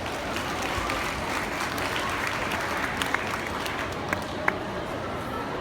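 An audience at a cat show at an agricultural fair claps steadily, dense even applause throughout with a few sharper claps standing out and faint talk behind.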